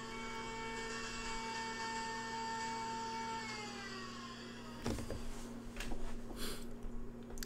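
An overhead router whines steadily while cutting white oak panels, its high tone dropping in pitch partway through, followed by rougher cutting noise near the end.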